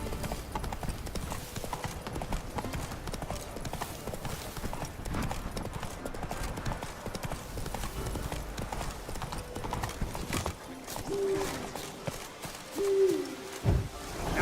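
Horse galloping in the video game The Witcher 3, rapid rhythmic clip-clop hoofbeats throughout over outdoor ambience, with a couple of brief owl-like hoots near the end.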